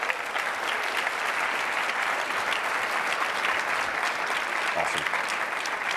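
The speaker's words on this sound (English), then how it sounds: "Can we give them a round of applause, please?" An audience at React.js Conf 2016 gives a steady, full round of applause after a talk on rich text editing with React, even and sustained throughout, with a brief spoken word heard over it.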